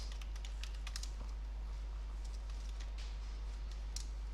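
Fingers type on a computer keyboard in quick light bursts of clicking keys, close and fairly quiet over a steady low hum, with a short pause in the middle and no one speaking.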